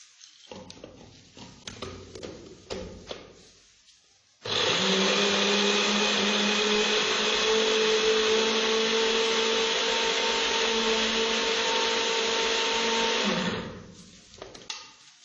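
An electric grinder grinds cottonseed kernels and sugar in a loud, continuous whirring burst lasting about nine seconds, preceded and followed by quieter clinks and handling noises.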